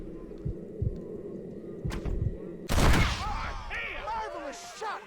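A single loud gunshot rings out in Red Dead Redemption, preceded by a few dull thuds and followed by a voice speaking over the fading report.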